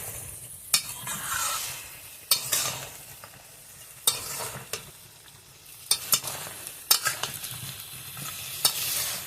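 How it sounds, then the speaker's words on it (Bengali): Vegetables with drumsticks are stir-fried in a pan along with fried lentil dumplings, giving a steady close sizzle broken by sharp scraping strokes of the spatula every second or two. "এখন ভেজে রাখা বড়িটা দিয়েও কষিয়ে নেব কিছু সময়।"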